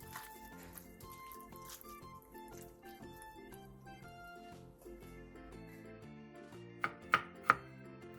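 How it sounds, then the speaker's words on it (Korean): Cucumber, pear and pickled radish being julienned with a knife, quick quiet chopping taps on a board, ending in a few sharper knocks, with no talk. "오이 2분의 1개, 배 한쪽, 쌈무 조금을 채 썰어 주세요."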